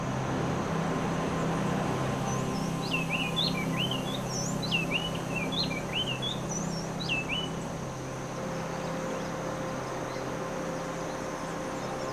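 Subtropical and tropical forest birds along the Satipo Road in central Peru sing a run of clear, repeated whistled phrases over a steady insect drone and low background hum, fairly distant and continuous.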